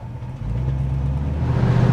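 A 1968 Ford Mustang pulls away on a drive, its engine a steady low rumble that swells slightly as the car gets going, close and with no voices.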